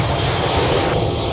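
United Embraer jet at Minneapolis–St. Paul airport, its engine roar loud and steady throughout with a broad rushing tone and no talk.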